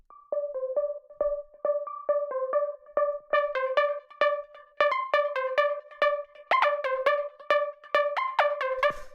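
A short, bright synth pluck preset from a tech house track repeats in a quick, bouncing rhythmic pattern, playing alone at moderate volume and growing busier toward the end.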